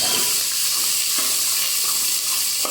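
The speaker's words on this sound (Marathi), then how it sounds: "भाज्या छान परतवून घेत आहे." Vegetables for Gujarati undhiyu sautéing in a generous amount of oil in a pan, a steady close sizzle with occasional stirring scrapes throughout, no talking.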